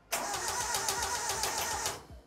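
Datsun Roadster 2000 engine cranking at its first startup in weeks, a close, rapid rhythmic churn of the starter running about two seconds before stopping, with no voices.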